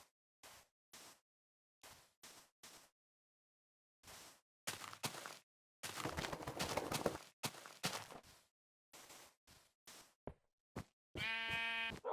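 Minecraft sheep bleat in short, separate calls scattered throughout, alongside blocky footstep and knocking game sounds, a longer burst of rustling action in the middle and a bright tonal chime near the end; no one speaks.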